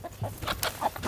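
Several hens cluck in short, close bursts with a rising squawk or two, the calls overlapping unevenly around a backyard chicken tractor.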